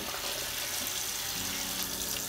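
Tap water runs steadily into a sink while a toothbrush is wetted, a continuous close hiss with no breaks and no talking.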